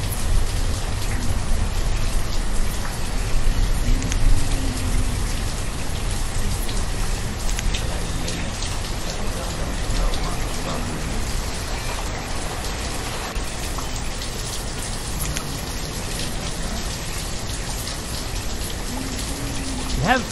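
Rain ambience in The Village city-building game, a steady, dense hiss of rainfall and patter on surfaces that continues unbroken at an even, fairly loud level.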